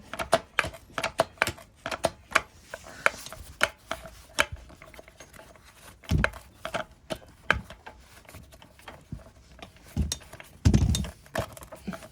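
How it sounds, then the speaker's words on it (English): Repeated light mechanical clicks and clunks from a Honda CL350 motorcycle gearbox shifting in and out of gear, with a couple of heavier thumps. "Actually clicking into gear now."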